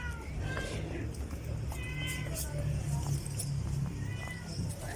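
A purebred kitten loose outdoors gives several short, high meows close by, repeated at irregular intervals over a low rumble and faint background noise.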